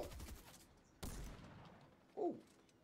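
Gunfire in the Fortnite video game, a few sharp, muffled blasts spaced about a second apart, faint and distant-sounding, with a brief tonal game effect near the end.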